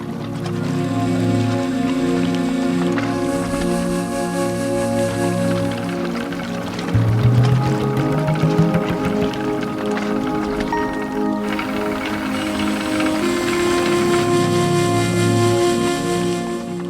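A gharat, a traditional water-powered flour mill with water fed from above onto a wooden wheel below, runs with a steady rumbling drone and rushing water, with a louder knocking surge partway through and no clear talk.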